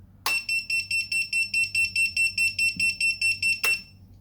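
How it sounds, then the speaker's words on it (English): A piercing electronic buzzer on an FPV drone beeps rapidly in a steady pulsing pattern, about a dozen shrill tones in quick succession, loud and close. "Now I'm going to activate the HellGate Buzzer"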